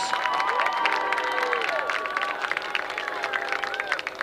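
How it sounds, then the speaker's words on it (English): A stadium crowd at a high school football game applauds and cheers for senior cheerleaders, with bursts of clapping, whoops and shouts over a busy crowd din. "One more round of applause for your senior cheerleaders."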